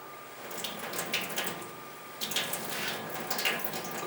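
Water splashed and sprinkled onto a litho stone from a lid with holes punched in it, giving a hissing, trickling wash with a few brighter bursts of spatter, fairly close.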